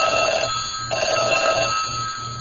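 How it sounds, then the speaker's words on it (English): A telephone rings with a steady electronic bell that repeats in an even pulsing pattern, loud and alone with no voices. "When the phone rings"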